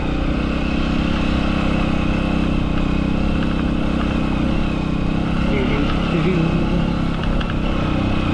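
Engine of a Honda XR150 dual sport motorcycle riding off-road, a loud, steady drone that holds close and continuous throughout, with wind rumble mixed in.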